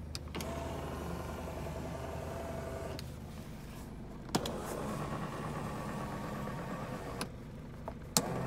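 A Mazda Bongo camper van engine idling with a steady low hum, with a few brief clicks and knocks over the constant drone.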